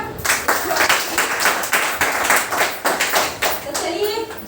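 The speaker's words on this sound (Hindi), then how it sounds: "एक बार जोरदार तालियां।" Audience clapping at a live event after an emcee calls for a loud round of applause, dense and continuous hand claps with scattered sharper claps and some voices mixed in throughout.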